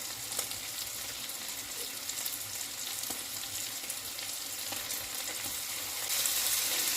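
Tomato added to cooking pork sausage in a pan, a steady bright sizzle and crackle of frying that holds level throughout and grows slightly louder near the end, with no talk.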